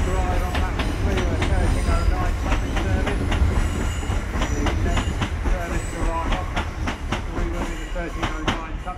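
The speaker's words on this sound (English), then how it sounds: "387118 Thames Link is departing Redhill station for Three Bridges" A Thameslink Class 387 electric passenger train departs Redhill station, rolling out steadily, wheels clicking rhythmically over rail joints with a low hum and occasional squeal, fairly close and continuous.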